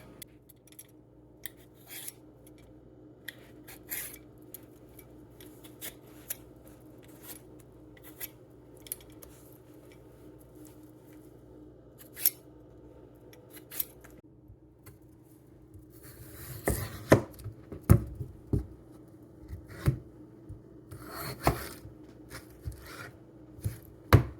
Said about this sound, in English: Everybody's favorite job, peeling potatoes.